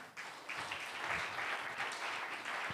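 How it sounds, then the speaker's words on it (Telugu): A church congregation at a Sunday service claps together, producing a steady, moderately distant wash of applause that continues for a few seconds with no voices over it. "ఒకసారి గట్టిగా చప్పట్లు కొడదారా?"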